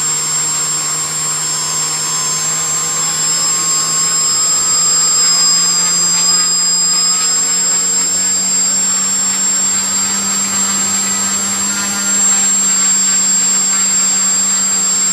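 DIY quadcopter brushless motors on a PIC18-based flight controller spin at about half to sixty percent torque, giving a steady, loud high-pitched whine with a constant tone that holds throughout, no voices heard.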